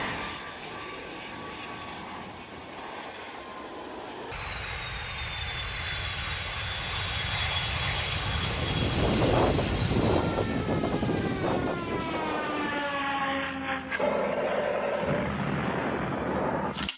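An airplane engine drones steadily in flight, a loud sustained roar with a tonal whine that shifts pitch as the aircraft passes, rising in intensity midway and continuing without any talk.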